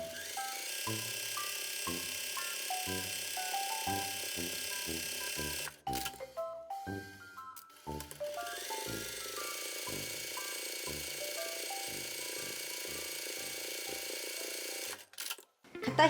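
Sewing machine stitching along both sides of an apron part, a faint, even mechanical whir running in stretches with brief pauses and restarts between them.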